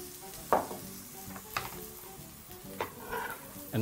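Carrots and spring onion frying in a little oil in a pan, quiet sizzling broken by several sharp clatters as the vegetables are tossed, with a louder scrape at the end.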